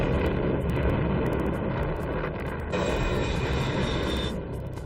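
A Fairchild A-10 ground-attack jet flying, a steady broad engine roar with a high whine that rises midway, continuous and moderately loud, with no voices.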